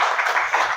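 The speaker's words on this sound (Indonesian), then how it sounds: "Tepuk tangan untuk jawabannya." Audience applause at an investor club seminar on the rattan business, a short, dense burst of clapping heard alone.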